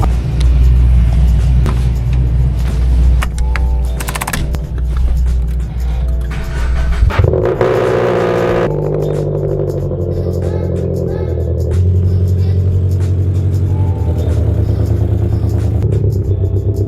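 A manual Subaru BRZ with a heavy clutch pulls away slowly, its engine rumbling low and steady close by, with a brief rise in revs as the clutch engages and a clatter partway through.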